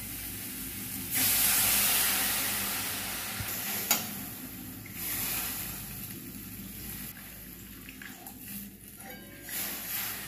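Water hits a hot pan of frying onion, chopped tomato, chilli powder and ground spice, giving a loud burst of sizzling and hissing that settles into a steady simmering fry with a few stirring knocks.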